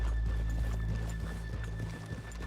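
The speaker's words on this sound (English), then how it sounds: "let's leave the horses here off the main drag" Horses in Red Dead Redemption 2 clip-clop steadily at close range, hooves thudding in an even rhythm over a low rumble, with a short whinny breaking through.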